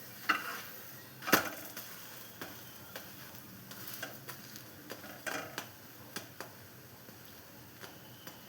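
A crispy chicken roll roasts in a pan with a quiet, continuous sizzle, dotted with small scattered ticks and pops that rise a little louder now and then.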